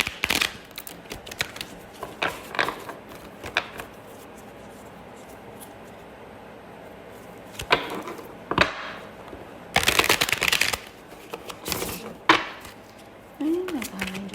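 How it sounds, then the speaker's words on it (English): Tarot cards are shuffled by hand for a reading, with close, crisp riffling and rustling bursts, some louder flutters, and quieter handling sounds in between. "I'm going to go ahead and shuffle live and start the reading."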